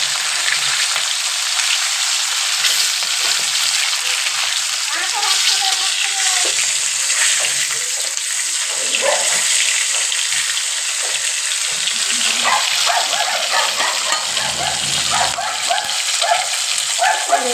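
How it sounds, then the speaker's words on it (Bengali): Pieces of rohu fish fry in hot oil in a pan, giving a loud, steady crackling sizzle that runs unbroken from start to finish, with small pops and spatters throughout. "মাছটা ভাজা হয়ে গেছে"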